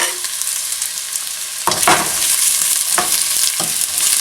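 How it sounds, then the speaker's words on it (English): Sliced onions sautéing in hot oil in a pan, a steady close sizzle broken by several louder bursts of stirring and scraping, with no voices. "saute these onions in the oil until about 3 to 4 minutes"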